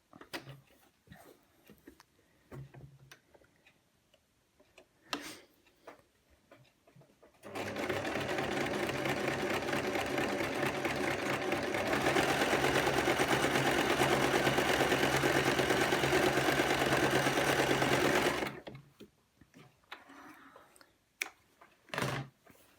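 A sewing machine runs steadily for about eleven seconds, top stitching a row on an A-line skirt, with quieter handling clicks and rustles before and after the run.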